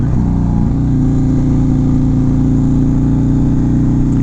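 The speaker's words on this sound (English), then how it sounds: "It's a sport bike." A sport bike engine drones loud and close in a steady, even hum, with a slight shift in pitch in the first moment.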